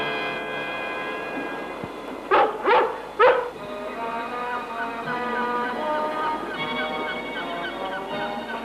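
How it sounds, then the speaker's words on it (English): A dog gives three sharp barks close by amid outdoor ambience near water, followed by softer whimpering yips, with a person talking around it. "What's wrong with that dog?"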